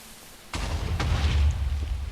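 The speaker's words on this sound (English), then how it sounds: "It's creepers blowing up and making creepies." Creepers explode in Minecraft, a sudden loud boom followed by a rumbling, crackling blast and a second burst shortly after, heavy and close with no talk.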